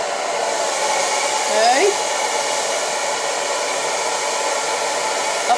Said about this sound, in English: pulling up on the roots and blow drying the hair